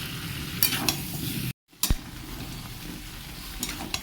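A spoon works boiled, squeezed soybeans into papaya curry in a pan, giving a steady sizzle with scraping stirs and a few sharp clinks, broken by a short silent gap.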